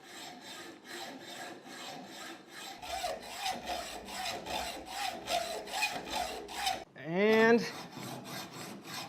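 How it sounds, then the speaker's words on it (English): A hacksaw cuts through a gun barrel clamped in a vise, rhythmic back-and-forth rasping strokes close up, ending in a brief squealing scrape, with a single word spoken near the start. "I'm going to go ahead and throw this barrel in the vise and just hacksaw it off"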